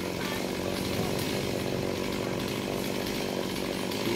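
Chainsaw cutting through an old coconut palm, a steady loud buzzing whine that holds without a break, close to the microphone and heard on its own.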